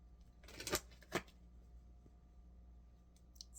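Oracle cards are shuffled in a lap, two quick crisp riffling bursts close by, then a quiet pause ending in a few faint soft clicks.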